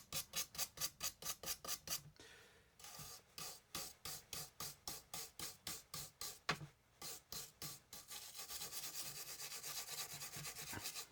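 Dusty residue being rubbed off a cracked wooden cane, rapid rhythmic scratchy strokes close up, broken by a short pause, then resuming and turning into a denser continuous scrubbing.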